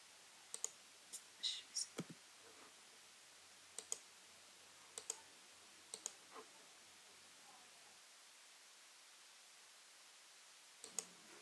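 Crisp computer mouse clicks sound while drawing in SolidWorks: several scattered single and paired clicks spread over a quiet room, close and distinct with silent gaps between them.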